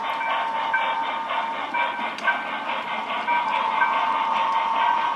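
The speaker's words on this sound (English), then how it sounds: "So our freight train is going to clear the station and the crossing" Freight train on the Arpree & Western Railroad clearing a station and level crossing, a steady mid-distance rumble with metallic wheel squeal and tonal humming.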